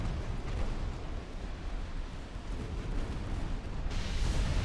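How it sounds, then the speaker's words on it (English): A torpedo strikes a warship in Ultimate Admiral: Dreadnoughts, a heavy sustained explosive rumble with deep booming low end that rolls on continuously, swelling brighter near the end amid naval gunfire. "Oh, hey, the Vulcan took a torpedo hit."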